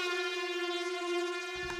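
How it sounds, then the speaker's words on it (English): Air horn preset on the FM4 instrument in Bitwig Studio, a loud sustained synthetic blast with stacked even harmonics held for almost two seconds, with a low pulsing beat entering near the end. "this is the air horn"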